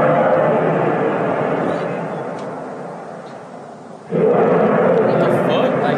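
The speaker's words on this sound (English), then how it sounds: "Have you guys ever heard of the trumpets in the sky?" A low, drawn-out brassy groaning in the sky, often called sky trumpets, swells, fades and then returns louder, sounding distant and eerie with a rumbling, horn-like tone and no talk over it.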